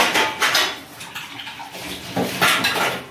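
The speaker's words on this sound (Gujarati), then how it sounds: "તો ચાલો બધાય વાસણ કરવા." Dishes, pots and cutlery being washed at a home sink, with bursts of clattering and scraping metal and running water that come and go in waves, fairly close.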